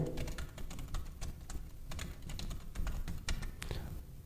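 Computer keyboard typing while an email address goes into an online PVC card order form: a steady, fast stream of close, light key clicks lasting several seconds with no voices.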